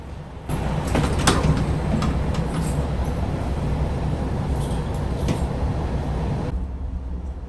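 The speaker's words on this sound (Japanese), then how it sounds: "すぐに扉が閉まります。" A JR Yosan Line train at Iyoshi Station, Japan, heard from inside: a brief door chime and sliding doors closing, then a steady rumbling hum as the train pulls away from the platform.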